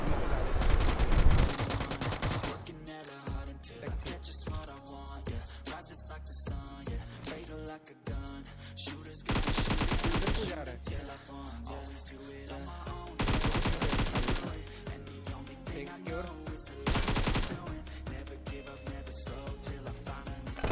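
Gunfire in the PUBG Mobile game comes as bursts of rapid automatic shots with single cracks between them, loud and close, with quieter gaps and game effects in between.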